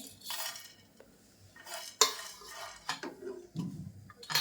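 A spoon scrapes and stirs grated coconut and garam masala as they roast in a metal pan for a traditional Konkan amti, giving intermittent clinks and scrapes with a faint sizzle, close and fairly quiet.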